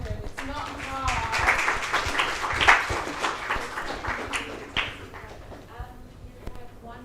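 An audience at a panel event on technology, rights and the environment applauds a speaker. Scattered clapping with crisp individual claps runs under prominent nearby talking throughout.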